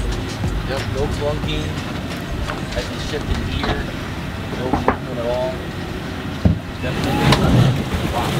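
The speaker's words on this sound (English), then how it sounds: "All right, so that was our sea trial and walkthrough on the 425 LXF from Scout Boats." A Scout 425 LXF boat with twin Mercury 600 V12 outboards runs on a sea trial, with a steady rumble, wind buffeting and water splash heard close up, and voices talking over it.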